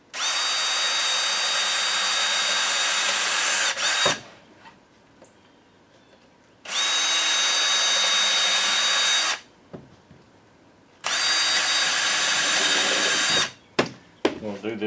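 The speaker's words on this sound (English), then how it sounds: "I'm going to drill a 1/8 inch pilot hole just to try to keep it from cracking on me" A power drill boring 1/8 inch pilot holes into wood while building a swarm trap, three loud, steady whirring bursts of a few seconds each, separated by quiet pauses with light handling noise.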